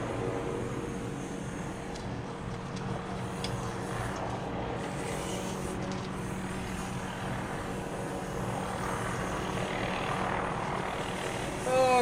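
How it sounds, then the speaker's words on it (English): A police helicopter drones steadily in the distance overhead, a low rumbling hum that grows slightly louder toward the end. "Hey, police helicopter's out."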